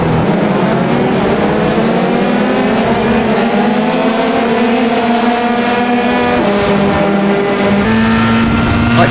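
A Formula 3 car on cold tyres drones steadily at Silverstone in the iRacing sim, its engine note rising and falling in pitch as it is driven steadily, loud and continuous with no voices.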